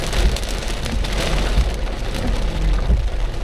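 Wind-driven storm rain pours across a road in a dense, steady hiss, loud and close with low rumbling gusts underneath and no voices.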